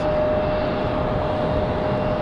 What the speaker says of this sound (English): Perfect sounding arrival for FedEx.